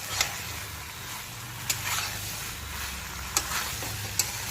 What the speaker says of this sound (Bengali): তাই একটুখানি মশলার সঙ্গে খুব ভালো মতো কষিয়ে নেব